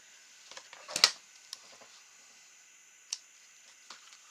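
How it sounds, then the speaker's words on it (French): A few small, crisp snips and clicks as scissors cut excess thread on a folded Christmas craft, one sharper cut standing out, close and quiet with no talk. "je vais couper le fil qui dépasse"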